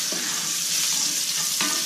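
Sliced shallots fry in a pan with a steady, close, bright sizzle throughout, broken by a couple of soft scraping stirs.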